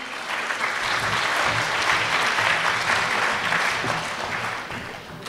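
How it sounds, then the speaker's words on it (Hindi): A large audience at a Hindi poetry gathering gives a loud, dense round of applause, a sustained roar of many hands clapping that holds steady and tapers slightly at the end. "एक मर्तबा आप ज़ोरदार तालियां बजाएं।"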